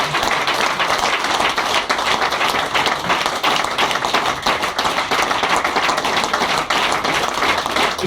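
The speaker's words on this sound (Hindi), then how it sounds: "अरे बजाओ भाई, ताली बजाओ" Crowd applause at a gathering as leaders are called forward, a steady, loud wash of many hands clapping without pause.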